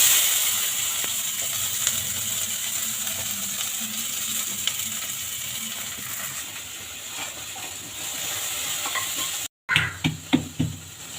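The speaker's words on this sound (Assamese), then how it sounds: "এই পিঁয়াজখিনি আৰু আলুখিনি অলপ ফ্ৰাই কৰিব লাগিব।" Onions and potatoes half-frying in a home pan for a family dinner: a steady soft sizzle throughout, with occasional clinks and stirring scrapes, a brief dropout, then a few sharper spatula knocks near the end.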